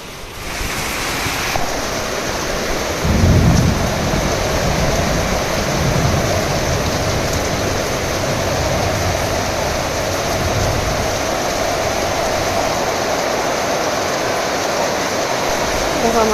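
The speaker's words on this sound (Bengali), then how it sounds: "দেখো আমাদের এখানে প্রচুর বৃষ্টি হচ্ছে।" Heavy rain roars outdoors as a dense, constant rushing wash, with a brief louder low surge early on before it settles into a steady downpour.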